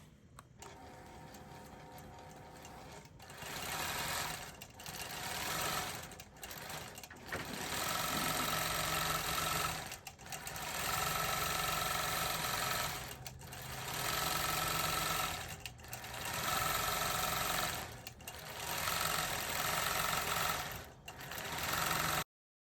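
A sewing machine quilts an all-over leaf pattern in gold thread, running in long steady bursts of rapid needle chatter with short pauses between runs, close and fairly loud, with no speech.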